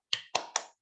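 Three quick, sharp claps in a lively rhythm, close and crisp, each ringing briefly before the next, led as a spirit cheer with no voices over them.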